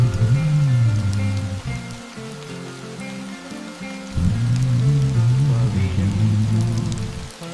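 Rain falls in a steady, continuous wash of hiss throughout, with a low melodic tone running beneath it.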